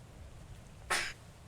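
A single short sneeze bursts out partway through, fairly loud and brief, against a quiet room background with no talking.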